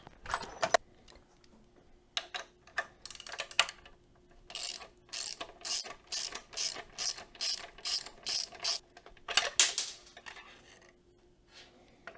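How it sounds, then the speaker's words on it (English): A hand ratchet clicks rapidly and close while loosening the axle sliders on a BMW S1000RR motorcycle, in bursts of quick metallic pawl ticks with short pauses between strokes, alone in a quiet workshop. "I'm going to go ahead and remove the axle sliders"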